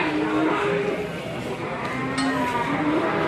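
Cattle, including jumbo bulls and calves, mooing loudly and close at a busy morning livestock market, one long low call after another over steady crowd murmur.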